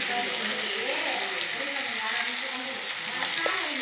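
Tomato pieces fry in a pan of oil for palak paneer, giving a steady, even hiss of sizzling that runs close and unbroken throughout, with no talking over it.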